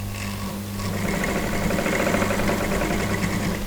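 A sewing machine runs continuously while stitching the armhole seam of a dress, a close, steady mechanical whir with a rapid needle rhythm that holds throughout, with no talk.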